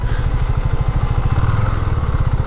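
A modified motorcycle about one and a half years old idles close by as it is parked, giving a loud, steady, rapid engine putter with no talk.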